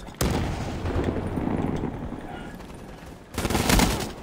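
Dense rapid gunfire and a grenade blast in an online first-person shooter match, loud close bursts of shots throughout, ending with a heavier explosive crash, with no talk over it.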